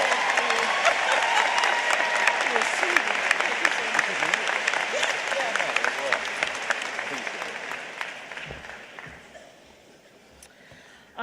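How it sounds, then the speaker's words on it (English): Applause at the Middle Georgia State College 2014 afternoon graduation ceremony, loud sustained crowd clapping that slowly fades out near the end. "Let's give her another round of applause."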